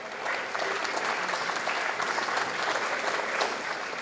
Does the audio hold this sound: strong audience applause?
yes